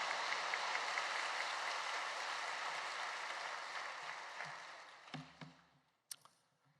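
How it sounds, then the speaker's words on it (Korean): A large church congregation applauds as a pastor comes to the pulpit at a Friday worship service, a broad, steady wash of clapping that gradually fades and ends with a few scattered claps. "큰 박수로 환영하겠습니다"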